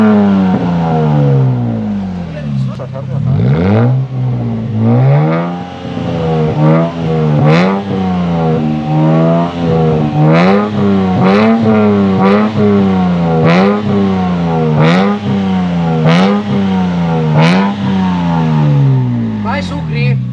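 A Lexus IS200 with no muffler on its exhaust revs again and again, each deep, full roar climbing and falling in pitch. Loud and close, with people talking between and over the blips.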